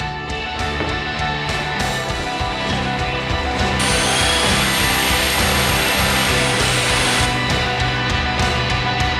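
A power saw cuts through MDF for a chandelier build, starting with short buzzing bursts and then holding a loud, continuous whine for a few seconds before trailing off into more choppy cuts; no speech.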